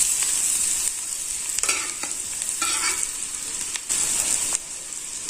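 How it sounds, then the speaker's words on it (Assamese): Onions with a pinch of turmeric fry in hot oil, a loud continuous close sizzle with occasional stirring scrapes and brief bursts of crackle. "পিঁয়াজখিনি গোল্ডেন ব্ৰাউন হয় তেতিয়ালৈকে ভাজিম"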